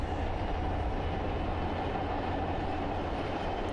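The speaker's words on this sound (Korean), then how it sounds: "순천시를 가로지르는 동천 위로 열차가 달린다." A train crosses the river in Suncheon, a continuous low rumble of rolling wheels and rail noise heard steadily at moderate distance.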